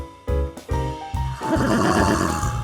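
A horse whinnies loudly and close by at a Pegasus road crossing, with a few sharp high-pitched neighing bursts followed by a rougher, noisier stretch of snorting and movement.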